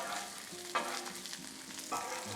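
Carne asada sizzling and frying on a Blackstone griddle, a steady close hiss with a couple of scrape-like bumps as the meat is moved around, no talking.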